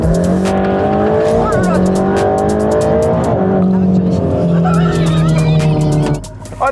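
A car driven hard with a loud, continuous engine drone and squealing tires, close and steady, with people talking over it.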